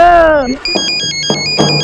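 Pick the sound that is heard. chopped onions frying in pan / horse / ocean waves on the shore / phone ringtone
phone ringtone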